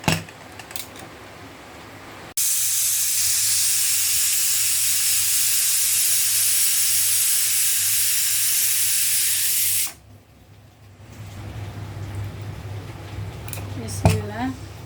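Steam hisses loudly and steadily for about seven seconds from a covered pot of beef nihari (paya), then cuts off abruptly, leaving quieter kitchen noise and a few small knocks near the end.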